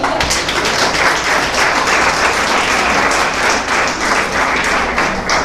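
A church congregation claps together throughout, a dense and lively round of clapping that stays loud and steady from start to finish, with no talk over it.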